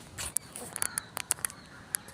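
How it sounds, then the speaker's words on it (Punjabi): Sharp, high bird chirps pop out in quick, irregular bursts over a quiet background, with a faint murmur underneath, along a canal bank. "ਪੰਛੀਆਂ ਦੀ ਆਵਾਜ਼ ਆ ਰਹੀ ਹੈ"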